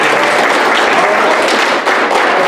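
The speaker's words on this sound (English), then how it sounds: "let's give Laura one more round of applause" Audience applause for a speaker at a speech competition finals, a dense, steady wash of clapping that fills the whole stretch at close range with a brief dip near the end.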